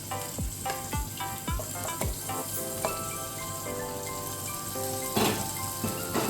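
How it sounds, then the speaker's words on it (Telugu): Onions and green chillies frying in oil in a clay pot, a steady dense sizzle throughout with a few knocks and scrapes of a spoon early on, close and even. "ఉల్లిపాయలు, పచ్చిమిరపకాయలు బాగా వేపాలి. కుండలో కాబట్టి కొంచెం టైం పడుతుంది."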